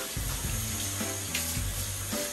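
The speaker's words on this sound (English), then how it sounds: "so I'll just do a rinse real quick." Water runs steadily from a kitchen sink tap as hands are rinsed while cooking air-fried chicken wings, giving a close, continuous splashing rush with a faint background hum.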